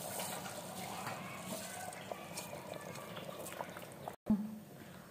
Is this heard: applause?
no